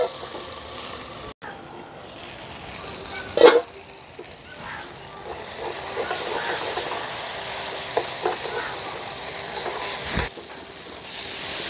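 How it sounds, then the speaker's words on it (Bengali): Spice paste with tomato sizzles in a pan while being fried for a spicy small-fish curry: a soft, steady hiss runs throughout, with a brief clatter a few seconds in. "মশলাটাকে ভালো করে কষিয়ে নেব।"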